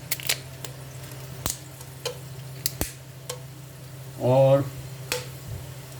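Whole spices, including black pepper and cinnamon, pop and sizzle in a hot pan, with several sharp cracks scattered over a low steady frying hiss and one brief louder burst midway.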